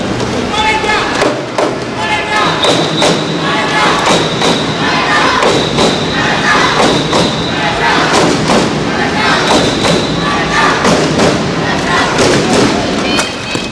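Dense, steady crowd noise from spectators at an Axiata Cup 2012 badminton group match, with loud thumping claps and bursts of cheering running throughout, heard close and full with voices mixed in.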